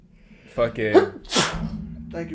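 A single sharp human sneeze bursts out between snatches of casual talk among friends, preceded by a short gasping intake and followed by more speech.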